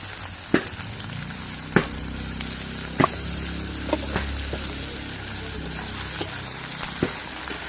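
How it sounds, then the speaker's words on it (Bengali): Tomato added to onion sizzling in hot oil in a pan, a steady close frying hiss with occasional sharp pops and spoon clicks throughout, no voices. "পেঁয়াজটা ভাজা ভাজা হয়ে গেছে, এবার ওতে দিয়ে দিলাম টমেটো"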